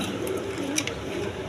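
Indian Bombay pigeons on a breeding farm, soft low cooing close by, with a few faint higher chirps over a murmuring background.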